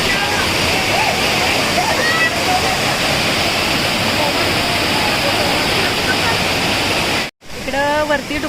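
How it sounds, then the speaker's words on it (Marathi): A hundred-metre waterfall at Kadgaon near Gargoti, Kolhapur, roars as a loud, steady, close rush of water throughout, with faint voices under it and a brief dropout near the end. "इकडं महाकाय धबधबा आहे तो शंभर मीटर आहे"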